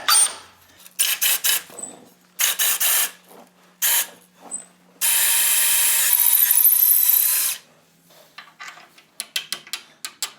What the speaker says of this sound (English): And then the very end of that bar gets bolted up as well.